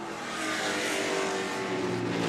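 A 1978 Lola 298 race car at a VIR vintage race, its engine note rising and sweeping past loud and close, a sustained high-pitched roar with no voices over it.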